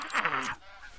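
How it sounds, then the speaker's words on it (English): Canada geese honk in a hunting video game, a short burst of several nasal calls close together, then fading into quiet background. "Damn Canadian geese, will you just stop coming here?"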